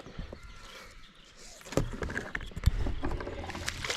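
A paddle works a small boat quietly through a swamp, with soft intermittent splashes, knocks and drips growing busier toward the end.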